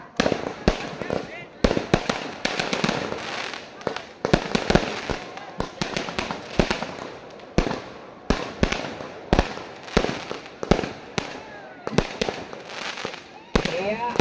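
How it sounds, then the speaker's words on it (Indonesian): Rapid strings of sharp firecracker bangs crackle and pop irregularly throughout, close and loud, with voices and crowd noise underneath at a Babakal Cup victory celebration. "Begitu meriahnya dengan petasan-petasan."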